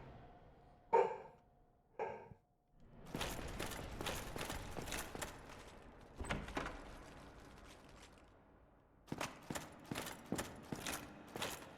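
Barking noise in the video game Dark Souls Remastered, faint sharp bursts among clanking game sounds, a couple of isolated barks early, then repeated rhythmic strikes and scuffles at low volume with no talk.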